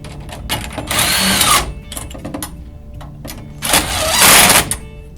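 A power tool whirs in two short bursts, tightening the nuts on a U-bolt bracket for a BirdGard Pro bird repeller mount, with quieter handling noise between.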